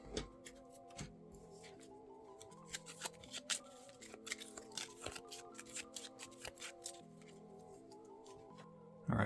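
A deck of board game cards being shuffled at the table for Unmatched Adventures, a series of quick crisp riffles and snaps over about nine seconds, moderately close, with a soft background tone underneath.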